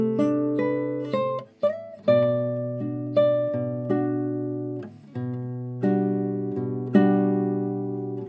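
A solo guitar plays the first four bars of a chord-melody arrangement, with clean, ringing chords struck one after another in a slow, even rhythm, each decaying before the next.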